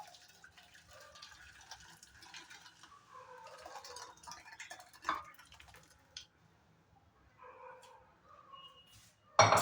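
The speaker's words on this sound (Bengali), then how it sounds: "এখন ডালটা ঢেলে নেব।" Cooked masoor dal pours from a pot in a home kitchen, a soft wet splashing and dripping that comes in uneven bursts, with faint clinks near the end.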